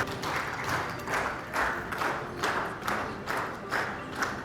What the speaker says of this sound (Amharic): እንደተለመደው ጭብጨባው ከፍ ብሎ እንዲሰማም ጭምር እንጠይቃችኋለን።